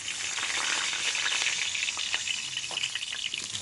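Meat curry simmering in a pot over a wood fire gathered from the forest, with steady close frying sizzle and hiss running throughout.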